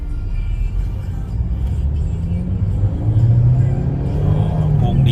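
A 2007 Chevrolet Optra 1.6 LS with manual gearbox pulls away in first gear, its engine hum rising steadily in pitch as it accelerates, with someone talking over it.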